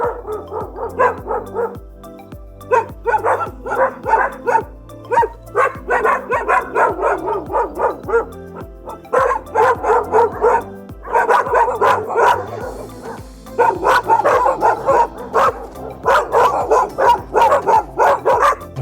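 Several dogs barking repeatedly at a large house with palm trees in the mountains of Alsancak, Northern Cyprus, in loud bursts of overlapping barks and yips with short pauses, close by and with no talk over them.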